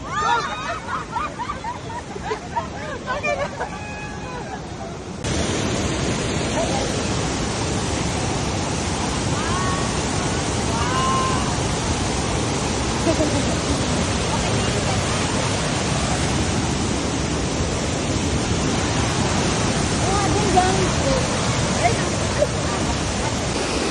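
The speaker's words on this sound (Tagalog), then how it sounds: "Lakas ng waterfall." Loud waterfall on a stream trek: after a few seconds of voices, a dense, steady roar of rushing water fills everything and continues unbroken, with people faintly talking beneath it.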